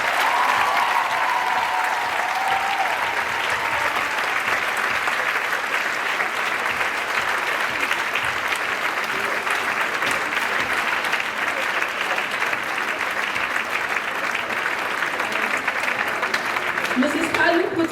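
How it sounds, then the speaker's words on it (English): A graduation crowd gives a long, loud, sustained ovation for a head of year, dense clapping from many hands filling a large hall steadily, with scattered voices and cheers mixed underneath. "Please, may I have a round of applause for our wonderful head of year"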